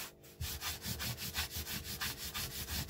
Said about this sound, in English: This will just burnish the surface a little bit, takes off a bit of excess leather dye, starts to shine it up a little bit,